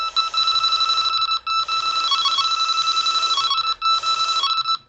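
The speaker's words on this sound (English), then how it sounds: "I'll blow on this alarm to show you" Delkim carp fishing bite alarm sounding a loud, steady electronic two-tone beeping tone, held continuously with two brief dropouts, close and alone without any talk.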